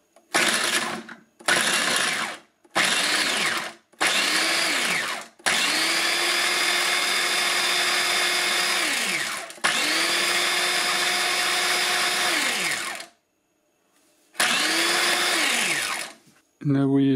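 A Silvercrest KM 250 food processor chopping halved onions in pulse mode, loud whirring motor bursts, several short pulses, then two longer runs and one more burst, alone without talk.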